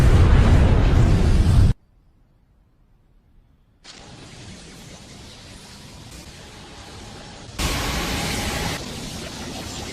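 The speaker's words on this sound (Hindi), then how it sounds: "धमाके को एक दूसरे स्पेस में भेज दिया।" A loud, roaring explosion from the Naruto Shippuden anime, Hindi dub, bursts at full strength and then cuts to near silence. A lower wash of rumbling noise follows, swelling again toward the end.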